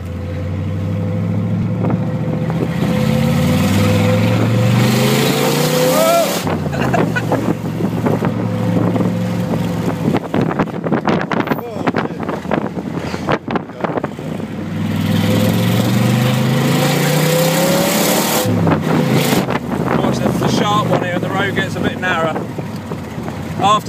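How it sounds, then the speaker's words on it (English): A 1969 Corvette with a 502 engine cruises along, its loud V8 rumble rising and falling through gear changes with wind buffeting the microphone and a person talking over it. "Here we are, cruising in the 502."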